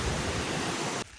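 Flowing water beside a Himalayan trek trail near Khaliya Top in Munsiyari, Uttarakhand, roars as a loud, steady rush that cuts off abruptly near the end.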